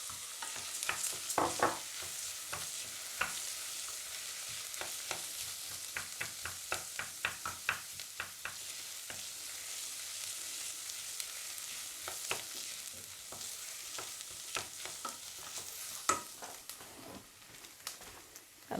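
Lentils stirred into a pan with a half teaspoon of tomato paste give soft, faint scraping and shuffling strokes over a low sizzle, coming in uneven bursts of irregular clicks and swishes with no talking.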